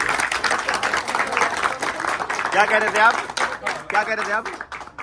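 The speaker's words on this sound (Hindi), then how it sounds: "जोरदार तालियां भैया आप सबको" Clapping from a gathered crowd, dense and rhythmic, with a voice speaking over it in the second half.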